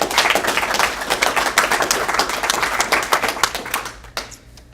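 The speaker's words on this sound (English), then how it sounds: "Let's have a round of applause for Patrick Giesbrecht" An audience at a StartUp Grind evening event in Chilliwack claps for a guest speaker, dense close applause that thins into a few scattered claps and fades out near the end.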